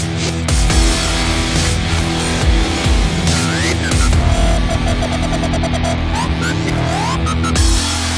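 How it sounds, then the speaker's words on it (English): Street cars racing flat out around a racetrack at an invitational event, engines roaring loud and close with rising gear-change whines and a car sweeping past, continuous for the whole stretch. "I can't wait to see how these cars perform in a racetrack situation"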